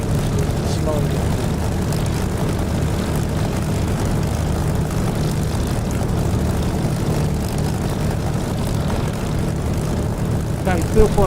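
A Spitfire's propeller engine in the DCS flight simulator game drones in a steady, loud, low rumble throughout, with a faint voice speaking over it near the end.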